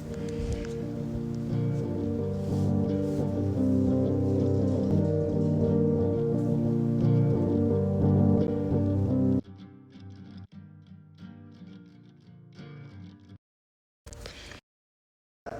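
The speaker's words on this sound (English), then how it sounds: "Then I add this little acoustic guitar." A small acoustic guitar loop layered into a home-made beat, heard as a dense plucked texture over steady rhythm, then cutting out into brief sparse fragments and silence near the end.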